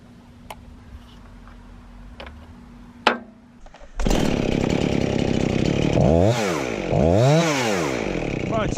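A chainsaw starts up after quiet clicks and handling, then runs loud and continuous, revving up and down twice before settling into a steady idle.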